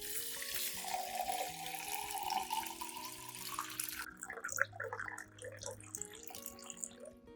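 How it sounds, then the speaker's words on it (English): Clean water runs steadily into a glass jar of soaked rice, a continuous pouring splash that thins toward the end, with soft background music beneath. "Then add about 500 milliliters of clean water."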